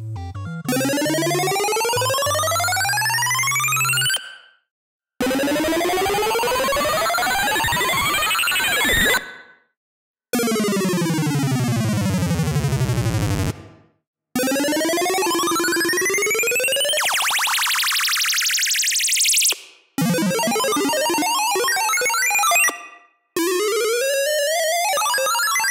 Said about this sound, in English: It also has several patches that work as effects. For example, eating mushies.